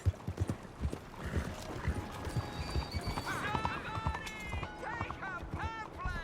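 A seal brown Thoroughbred gallops in Red Dead Redemption 2, its hooves drumming in a quick, close rhythm, followed by a clear whinny and snorts; no one speaks over it.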